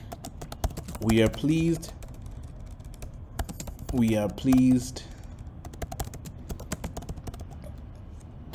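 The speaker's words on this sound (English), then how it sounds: "now you type the content of the email and exactly what you wanted to say" Fingers type an email on a computer keyboard, a brisk run of close, crisp key clicks with short pauses, while a voice speaks briefly over the tapping.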